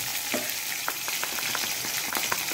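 Cumin seeds and curry leaves sizzle steadily in hot oil for a tempering, a continuous close crackle with occasional stirring scrapes.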